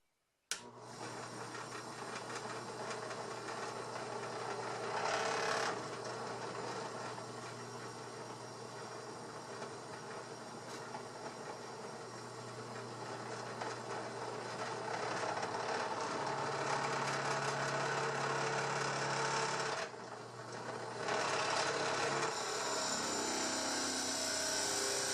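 A drill press bores a large hole in wood during a Roubo workbench leg vise build, giving a steady loud motorized whine with grinding cutting noise throughout, briefly dropping off twice, no talking.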